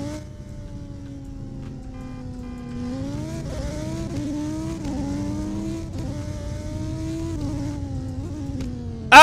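A Lamborghini in the Roblox game Southwest Florida drives along a highway, its engine note rising and falling through repeated revs and gear shifts, close and continuous.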